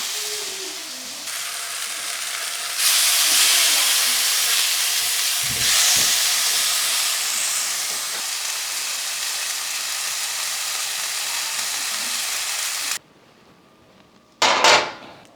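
Meat searing in a hot pan for casseroles, a loud, steady sizzling hiss that swells after a few seconds, runs for about ten more, then cuts out abruptly before a short burst returns.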